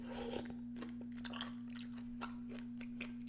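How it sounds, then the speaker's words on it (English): Crunchy roasted peanuts in a spicy Chinese noodle soup being chewed close to the mic, repeated soft crunches and bites over a steady low electrical hum. "And the peanuts give a very nice crunch to it."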